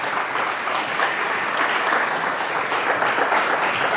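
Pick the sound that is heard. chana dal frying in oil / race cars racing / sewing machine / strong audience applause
strong audience applause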